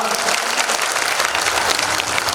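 An audience claps steadily and densely at a Thai government ceremony with ministers present, launching a one-stop service platform for disability ID cards; the applause stays loud and even throughout.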